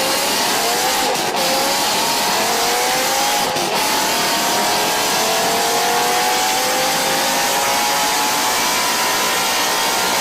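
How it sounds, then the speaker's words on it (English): BMW M5 E60 sedan's S85 V10 engine revving hard, a loud sustained high-pitched wail with rising and falling tones over about ten seconds, no talk. "the S85 engine is a really good sounding engine"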